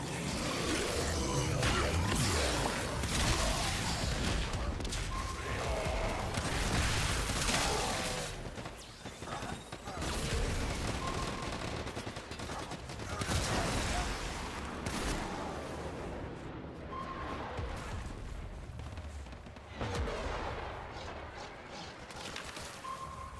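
Dense, continuous pistol gunfire and combat clatter from the video game Warframe roll on at moderate loudness, a busy wash of shots, impacts and effects with only brief dips.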